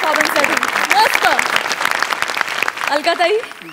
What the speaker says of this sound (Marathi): जोरदार टाळ्या परफॉर्मन्ससाठी मस्त